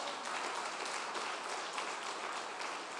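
Church congregation applauding during a worship service, a steady wash of many hands clapping at a distance, fairly faint and continuous without pause.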